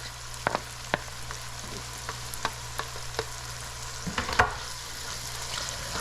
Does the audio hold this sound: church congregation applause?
no